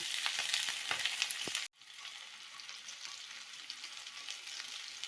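Onions sauté in a pan for a curry, giving a steady, close broadband sizzle with faint stirring scrapes, broken by a sudden brief cut near the middle before the frying hiss resumes, with no one talking.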